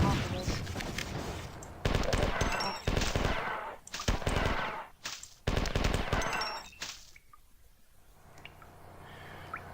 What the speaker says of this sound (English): I have a shotgun this time, though.